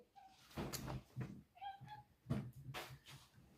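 A pet cat meows in a few short, clear calls, fairly close, indoors during an unboxing, with some background noise and no speech over it.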